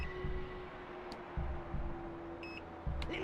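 A bomb in a PS1 video game beeps, with a few short high electronic tones standing out over a steady hum and low rumbling game ambience, with no voice heard.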